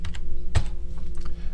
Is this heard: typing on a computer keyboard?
yes